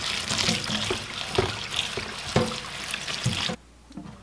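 Violet blossoms rinsed under running tap water: a steady splashing stream, close and fairly loud throughout, with small knocks and clatters, then cutting off abruptly near the end to leave near silence.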